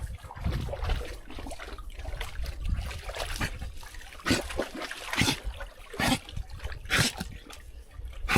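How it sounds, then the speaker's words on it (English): Water trickling along a stream, a constant near babble broken by louder splashy bursts every second or so, fairly faint overall. "Water all up and down through here."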